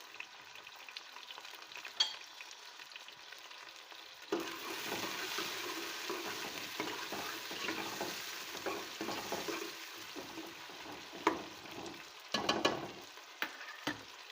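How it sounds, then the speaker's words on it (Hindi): Onions frying in hot oil for aloo gosht, a quiet pan that bursts into a dense, steady sizzle as they go in, then crackles on with occasional stirring clinks, close and with no speech. "हम प्याज को इतना पकाएंगे कि हमारी जो प्याज है वो सॉफ्ट हो जाए, बस डार्क ब्राउन ना हो।"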